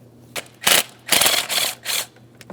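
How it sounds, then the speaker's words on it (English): A ratchet loosens the 8mm speed sensor mounting bolt on a 2008-2016 Chrysler Town & Country 3.8L V6, with several loud, close bursts of rapid clicking separated by short pauses. "there's one 8mm headed mounting bolt holding it in place. Let's go ahead and remove that bolt"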